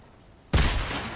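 Explosion and burst of gunfire in the Fortnite video game: a loud sudden blast hits midway, followed by a dense, sustained crackle of shots that slowly fades, with no talk.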